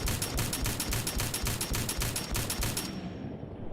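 Rapid automatic gunfire in the Fallout 4 video game, a fast, even burst of loud shots lasting a few seconds, then cutting off abruptly into near silence.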